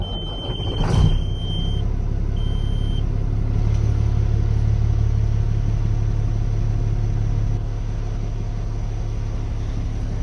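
A 2000 Peterbilt 379 day cab work truck fires up with a brief crank burst, then settles into a steady, loud low diesel rumble at idle, with a faint high electronic beep early on.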